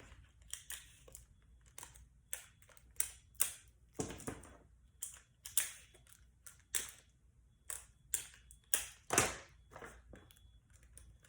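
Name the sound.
tape being pulled and applied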